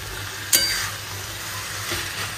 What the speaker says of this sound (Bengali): হয়ে গেছে, ঘি দিয়ে দিচ্ছি।